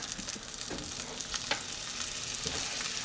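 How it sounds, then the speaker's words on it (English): A ribeye steak sears in a Ninja Foodi pan with butter, rosemary and garlic, making a soft, continuous sizzle with faint crackles and small spatters, close by and without talk. "we'll add our butter, our rosemary and garlic, and start basting this bad boy up"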